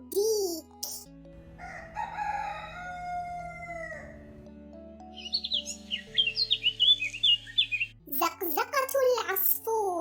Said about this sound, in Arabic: زقزقة العصفور